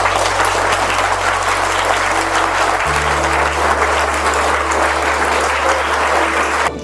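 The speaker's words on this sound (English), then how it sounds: "can I request you all to give a huge round of applause for our teachers." Loud, dense applause from students at a school assembly for Teachers' Day, a continuous roar of many hands clapping together throughout, with a low electrical hum underneath and no speech.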